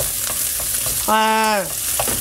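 Italian sausage frying in a pan and being broken up, a steady sizzle running throughout with a brief loud harmonic squeal near the middle, likely the utensil scraping the pan.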